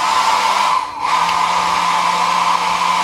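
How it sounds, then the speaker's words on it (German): A hair dryer powered by a campervan's portable power station blows with a loud, steady whirring hum, dipping briefly once before resuming at full strength, with no voices. "Also, der Föhn ist angesteckt."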